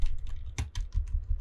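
Fingers typing on a computer keyboard, a quick uneven run of close, crisp key clicks with small pauses, heard alone.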